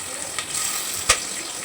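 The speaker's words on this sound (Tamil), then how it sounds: "தேவையான வெஜிடபிள்ஸ் ப்ளஸ் பட்டாணி எல்லாம் சேர்த்துட்டு நீங்கள் அதோடு சேர்த்து வதக்கிடுங்க" Vegetables with onion and peas sauté in a pan for veg pulao, giving a steady close sizzle with a brief stirring scrape partway through.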